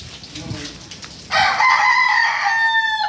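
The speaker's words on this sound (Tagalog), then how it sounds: "Manok mo ba yan?" A rooster crows loudly and close by, a long strained call cutting in after a moment of faint background noise.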